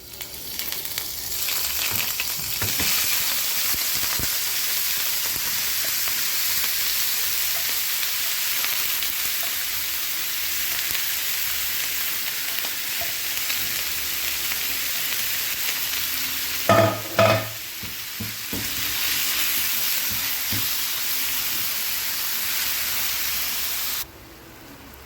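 Minced meat frying with onions in hot oil, cooking for baked béchamel macaroni: a steady loud sizzle runs throughout, with a few louder stirring clatters midway and an abrupt drop near the end.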